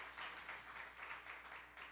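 An audience applauds a veteran singer at a birthday tribute concert, a steady, fairly faint wash of many clapping hands that swells and ebbs over two seconds.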